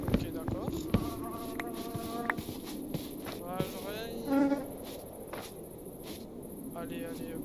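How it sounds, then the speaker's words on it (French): A mosquito buzzes in a video game, a thin whining drone that sits close and fairly loud across the whole stretch, while someone speaks over it in short remarks. "c'est un moustique ça? C'est possible, ça fait autant de bruit comme ça là?"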